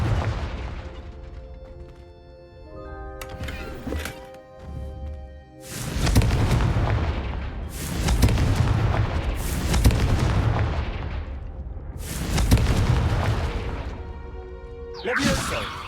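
Blasting-curse explosions in Hogwarts Legacy, cast as spell practice: a series of loud, booming blasts with crashing debris and rumbling decay, arriving every couple of seconds after a quieter musical start.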